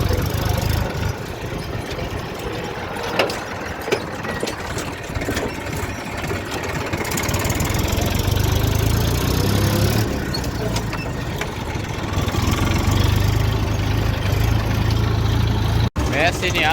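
A Massey tractor engine in poor condition idles steadily up close, with a low rough rumble and uneven knocking throughout, while voices talk faintly over it.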